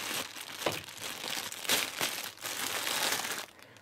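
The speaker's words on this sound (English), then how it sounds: "Just open this bag, excuse the noise." A plastic bag holding power supply accessories (screws, cable ties, Velcro straps) is crinkled and torn open up close, a continuous rustling crackle with several sharper crunches, and no talking.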